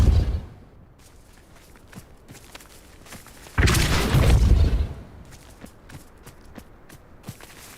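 A Depulso spell cast in Hogwarts Legacy, a roughly one-second whooshing burst of force standing out loud over quiet ambience, with a thump at the start and scattered small clicks and knocks after.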